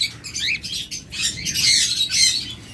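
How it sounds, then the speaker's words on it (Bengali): High-mutation cockatiels for sale chirp and squawk in a busy, overlapping chatter, bright and near, with short sharp calls rising and dipping throughout. "একদম হাই মিটেশনে ভালো মানের ককাটের পাখি করতেছেন"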